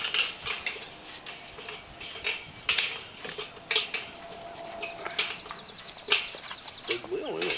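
Metal wrenches handled while fixing a big wheel with a new nut and bolt, sharp clinks and scrapes tapping at irregular intervals, close by, with talking and faint birdsong in the background.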